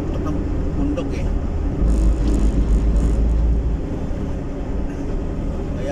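A car drives a mountain road on the Zamboanguita–Siaton route in Negros Oriental with a window open. Wind buffets loudly against the cabin over a low, continuous engine and road rumble, with bursts of louder gusting.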